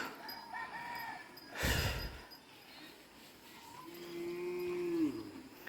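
A young buffalo lets out a long, drawn-out moo that rises and then fades, with faint rooster calls and light background noise from an outdoor farm setting.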